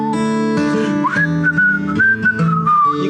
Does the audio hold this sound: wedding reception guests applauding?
no